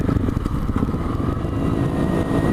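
A Honda CRF250L motorcycle fitted with an FMF exhaust, its engine running with a steady, throaty low rumble that stays close and loud throughout, with no talk over it.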